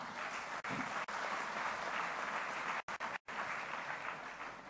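Dense, loud applause from a banking conference audience honouring the RBI Governor at BANCON 2013, sustained throughout and broken by a few brief dropouts.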